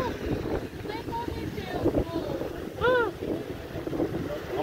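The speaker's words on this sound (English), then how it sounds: "This is a windy Thursday." Gusts of wind buffet the microphone with low rumbling noise, while people talk and laugh in the background.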